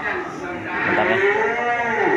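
Cattle at a cattle market in Indonesia: one long, loud, close moo with a wavering, rising and falling pitch, lasting about two seconds over a low background rumble.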